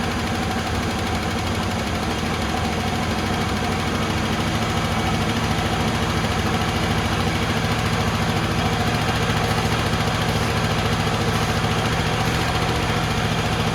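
An old Dodge Ramcharger engine, after sitting twenty years, idles steadily with a constant low rumble and rattle, loud and close, holding even throughout with no voices.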